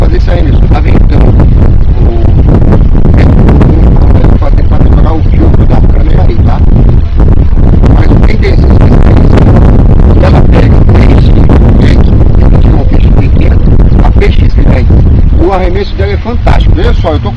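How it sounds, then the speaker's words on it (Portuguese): Steady gusty wind roars against the microphone outdoors during a fishing session by the water, a loud continuous rumble that fills the whole stretch with someone talking over it. "está ventando"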